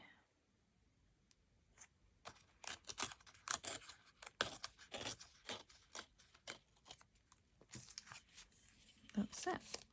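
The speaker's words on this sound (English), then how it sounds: "And just tear that away." Paper torn away by hand while making a junk journal, a string of quick, crisp ripping strokes, close and faint after a quiet start.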